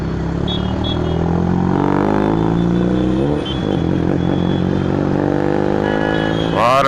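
A modified Honda City with a loud aftermarket exhaust revs hard nearby on a Chennai road, its engine note rising and swelling continuously before a sharp burst at the end.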